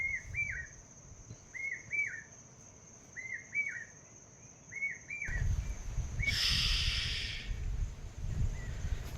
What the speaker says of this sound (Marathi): फक्त पक्ष्यांचा बिलाट